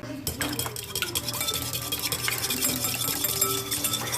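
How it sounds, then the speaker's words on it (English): A whisk clinks steadily against a bowl as salt and two eggs are beaten together, a continuous scraping, tinkling rhythm heard up close with no talking. "I'm gonna go ahead and whisk up the salt and the salt and the eggs first"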